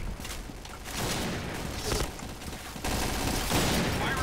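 Rapid bursts of gunfire from the shooter game Piercing Blow crackle in steady, overlapping volleys that swell louder partway through, with no voices over them.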